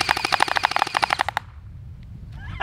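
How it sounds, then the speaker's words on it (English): A small gel blaster pistol fires a rapid burst of about a dozen sharp, evenly spaced clicking shots for over a second outdoors, then stops, leaving faint ambient background noise. "brought his little gel blaster down to have some fun"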